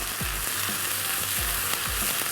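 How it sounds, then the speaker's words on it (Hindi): Tomatoes, garlic and spices sizzling in a pan for a Thai chicken meatball curry, a loud, steady frying hiss with a spoon scraping and stirring in repeated strokes, no talking. "और मसाले को हम अच्छा सा भून लेंगे।"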